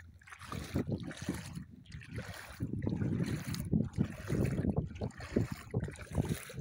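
Someone wades through floodwater in Garissa, producing rhythmic sloshing splashes with each step, close and moderately loud, separated by short pauses.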